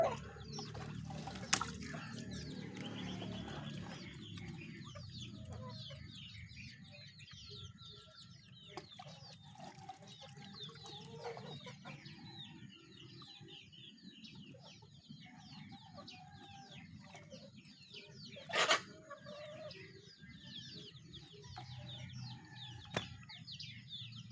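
Backyard pet chickens being bathed to rid them of lice cluck steadily for a long stretch, with a rooster crow partway through and water sounds in the background, plus a few sharp knocks.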